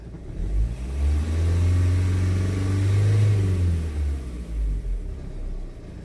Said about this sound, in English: When you rev it up, you want to see that it goes straight up. And when it decelerates, come straight back down.